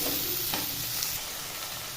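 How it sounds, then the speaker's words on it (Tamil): Chopped tomatoes sautéing in oil for a Chettinad brinjal curry, a brief, close burst of sizzling with a spoon scraping through it, and no voices. "இப்போ இது எல்லாத்தையுமே இந்த எண்ணெயிலே நல்லா வதக்கி எடுத்துக்கணும்"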